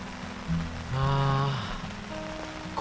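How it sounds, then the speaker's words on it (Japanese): Steady summer rain falls at a campsite, a soft continuous patter with a brief low tonal hum partway through. No voices. "今はねもう雨音しか聞こえません 雨音ばっかり。"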